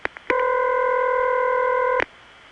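Ringback tone from an early-1980s Rye, New York telephone office, a steady multi-pitched ring lasting about two seconds, preceded by a couple of short clicks and ending abruptly with a click.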